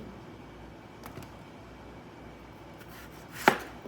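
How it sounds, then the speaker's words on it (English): A knife dices green tomatoes on a cutting board for frying, a single sharp chop standing out near the end over a faint, steady background hiss. "Now I'm going to dice some because a lot of times we prefer the fried green tomatoes that is diced"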